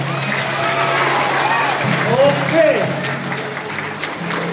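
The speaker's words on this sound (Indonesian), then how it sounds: "Iya, tepuk tangan dulu." Students at a boarding school in Timika, Papua, applaud together, a steady crowd clapping that holds throughout with a speaker's voice over it.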